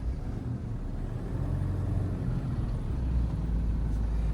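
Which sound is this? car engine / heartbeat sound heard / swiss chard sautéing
car engine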